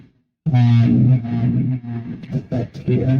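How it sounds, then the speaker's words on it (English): A distortion effect on a pedal board gives a buzzy, harmonically rich tone that starts abruptly after a brief silence and runs on with uneven bursts, close and loud. "Do you hear my board distorted right now?"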